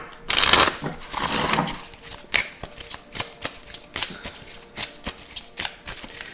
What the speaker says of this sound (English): Let's go ahead and get some tarot cards.